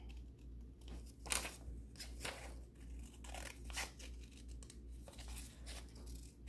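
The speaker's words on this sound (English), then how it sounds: "And then now that I've folded it, I'm going to cut the square out." Paper folded for a Bible craft of a jug being cut with scissors, giving soft repeated snips and crinkly tearing-like rustles at a close, quiet level with no talking.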